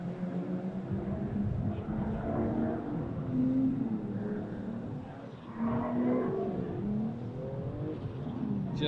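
Ford Mustang drift cars running in tandem at a drift event, distant engine wails rising and falling as the cars rev through the corners, heard from afar at moderate level.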